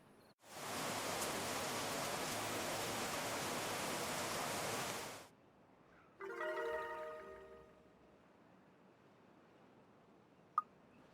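Rain in a modded video game falls as a dense, steady hiss for several seconds and then cuts off abruptly, followed by a short chiming game sound and a faint click.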